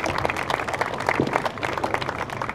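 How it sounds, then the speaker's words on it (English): A crowd gathered for a bridge completion applauds, brisk scattered clapping close by, steady and without speech. "I'd like to give you a round of applause."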